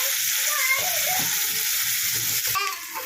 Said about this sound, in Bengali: কাঁকড়াগুলোকে খুব ভালো করে ভেজে নিতে হবে